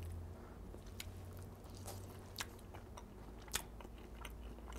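Chewing on cooked chicken stuffing while tasting it for salt, with soft, steady mastication, a few brief crunchy bites and faint mouth squishes close to the mic, no talking.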